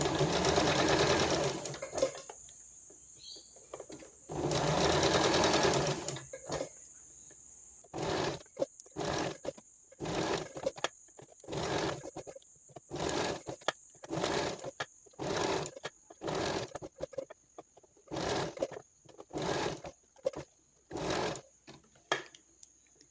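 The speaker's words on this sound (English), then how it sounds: "And then make sure again that the needle is down. Stretch." A domestic sewing machine stitches elastic fabric for a bowl cover, starting with longer runs and then a steady series of short close bursts separated by pauses, with a faint steady whine between them.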